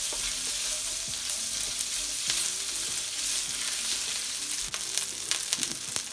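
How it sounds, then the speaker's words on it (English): Tomato puree sizzles steadily in a hot pan with other Indo-Chinese vegetable Manchurian ingredients, broadband frying hiss continuing throughout while a spoon scrapes and stirs in repeated short strokes, loud and close, no talking. "I'm going to add in my tomato puree and give it all a nice stir"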